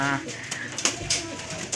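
Pigeons coo in a busy, close setting, with soft bird calls and brief clatters layered over a steady background murmur.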